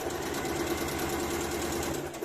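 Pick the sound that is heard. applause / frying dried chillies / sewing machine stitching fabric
sewing machine stitching fabric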